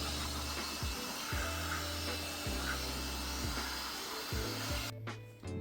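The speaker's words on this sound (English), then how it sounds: "I normally prefer to dry out my wheels and tires using a small leaf blower." A small leaf blower drying car wheels and tires runs loudly and steadily, a broadband whoosh with a few short bumps and pauses, then cuts off near the end.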